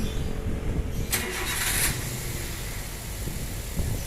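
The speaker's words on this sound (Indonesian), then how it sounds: "hidupin dulu mesin." A Daihatsu Gran Max or Toyota Avanza engine cranks briefly and catches, then settles into a steady running hum; no one speaks.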